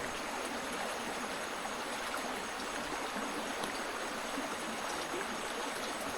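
Continuous, even rush of a flowing forest stream in rural Laos, close and fairly loud, with no voices over it.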